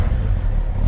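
A Kawasaki motorcycle engine rumbles loud and close in a short, deep, throaty burst of revving.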